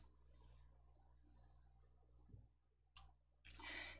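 A computer mouse clicks to pick a font, heard as a few sharp, close clicks around the three-second mark and again near the end, with a quiet background hum and no talking.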